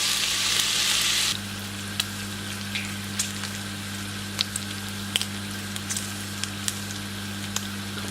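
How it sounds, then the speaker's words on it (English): Sweet potato skins frying in a pan with a steady sizzle, sharp pops and crackles scattered through it; a brief louder rush of hiss at the very start. "just keep those frying off until they're golden brown"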